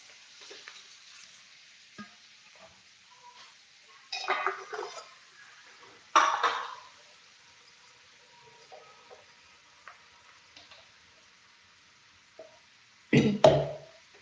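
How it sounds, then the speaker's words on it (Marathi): Chapati crumbs being stirred into chivda frying in a pan: faint sizzling background broken by a few short scraping stirs, louder bursts around the middle and near the end. "चुरा घालून झाला की व्यवस्थित मिक्स करायचा आहे"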